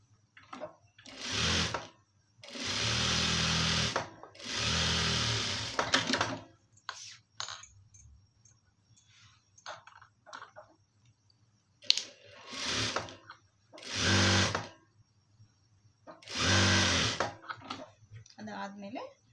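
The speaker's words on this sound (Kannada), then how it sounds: "ಈಗ ಇಲ್ಲಿ ಬಾಟಮಲ್ಲಿ ಒಂದು ಸ್ಟಿಚ್ ಹಾಕೋಣ" A sewing machine stitches lining fabric in several separate bursts of rapid mechanical clatter, each lasting a second or two, with quiet gaps and brief talk in between.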